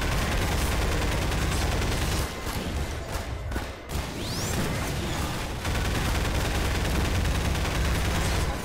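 Dense, loud gunfire from the game Garry's Mod, with rapid overlapping shots and bursts that pause briefly midway and then pick up again.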